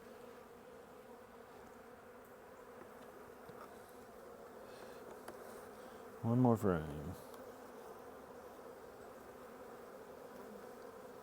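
Honey bees hum and buzz steadily around an open hive during a spring inspection, with pollen-laden workers on the frames. A person says a few words briefly over the constant drone.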